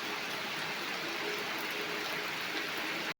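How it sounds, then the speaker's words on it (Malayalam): Heavy monsoon rain pours steadily as a dense, even hiss, loud and continuous with no voices, then cuts off abruptly. "നല്ല പെരുമഴയായിപ്പോയി"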